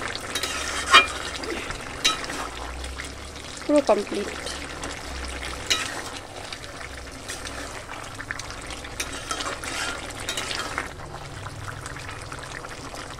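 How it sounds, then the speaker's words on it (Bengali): Pumpkin greens ghonto cooks in a pan, simmering and sizzling with a few sharp clinks of stirring, while someone talks over the cooking. "দেখো কত সুন্দর ফুটছে"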